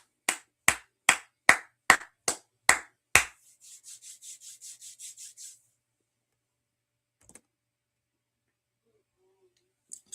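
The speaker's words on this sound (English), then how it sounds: "let's clap it up" Hands clap in a slow, loud, even beat of about eight claps at a religious class, followed by a quicker, softer run of claps that fades to near silence.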